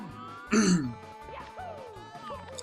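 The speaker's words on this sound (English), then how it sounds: "if you're wondering why I'm coughing so bad" One sharp, harsh throat-clearing cough up close, followed by rough, wheezy breathing and faint strained vocal sounds.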